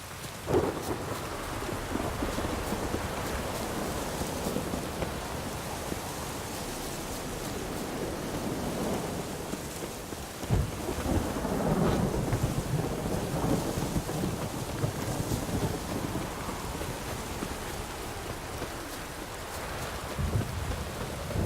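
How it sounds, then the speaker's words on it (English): A thunderstorm in the video game Witcher 3 brings steady heavy rain with deep rolling thunder swelling partway through, loud and continuous with no voices. "A storm, damn it."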